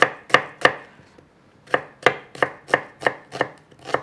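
A sharp knife chops a large onion on a board in nine crisp, evenly spaced strokes, with a short pause after the first three, close and loud with no voices.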